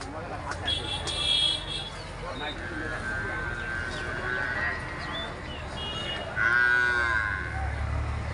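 Young buffalo calves moo in drawn-out, nasal calls a few times, close by at a livestock fair, with people talking and outdoor background noise.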